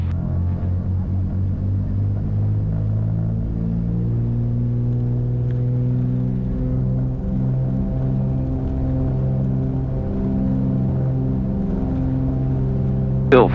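A small airplane engine drones and hums steadily as it powers up for takeoff, its pitch shifting slightly as it revs, loud and close throughout.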